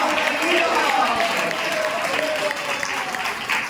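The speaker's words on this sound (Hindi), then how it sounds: "जोर से ताली बजा के, जोर से, जोर से।" A church congregation claps loudly and steadily throughout a Hindi-language worship service in Chandigarh, the dense applause filling the room without a break.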